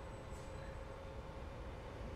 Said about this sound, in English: Let's get that train out of the way